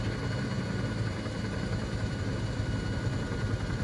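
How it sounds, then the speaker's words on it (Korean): Helicopter approaching in ArmA 3, a Vietnam-era night rescue mission, heard as a steady, moderately loud engine and rotor drone that holds evenly throughout with no speech. "마이크 헬기, 헬기 진입 중."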